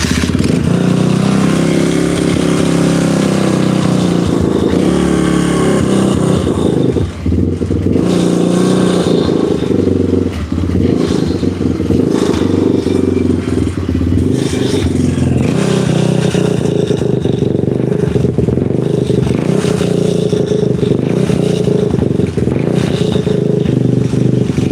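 Small engine running at idle with the choke off while the idle is being adjusted, a steady loud rumble with rough, uneven clatter and slight surges throughout, no voices.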